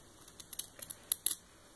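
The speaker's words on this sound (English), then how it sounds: "Get your scissors again, and I kind of come in at an angle and trim about half of these" Scissors snipping and trimming craft fur at an angle while tying a shrimp fly, a quick run of small, close, crisp cuts that grow sharper toward the end, with no talking.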